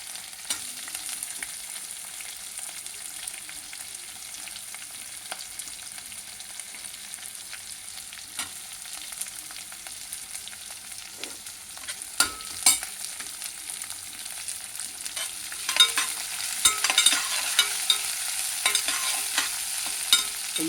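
Onions, green chillies and ginger fry in a pan for a kadi with bondalu, giving a soft continuous sizzle broken by scraping stirs that grow busier and louder toward the end, with no voices.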